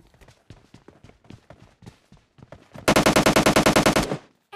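A rapid burst of automatic gunfire sprays in a mobile shooter game, a dozen loud evenly spaced shots near the end, preceded by quieter rhythmic footstep-like thuds.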